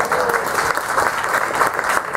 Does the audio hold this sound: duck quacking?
no